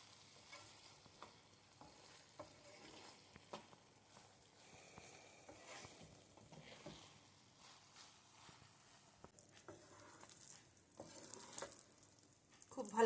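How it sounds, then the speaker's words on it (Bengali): Daliya (broken wheat) being stirred with yellow food colour in a pan for laddu, giving soft steady scraping and light crackle throughout, fairly quiet and close, with no voices. "খুব ভালোভাবে কিন্তু ফুড কালারের সাথে মিশিয়ে নিচ্ছি ডালিয়া"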